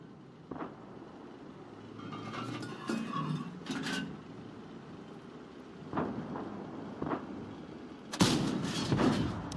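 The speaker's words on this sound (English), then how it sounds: "I aimed perfectly and the shell just went into the rock" A tank shell fired from a Soviet tank destroyer in a video game battle, with a sharp boom near the end over faint rumbling and scattered smaller game sounds earlier.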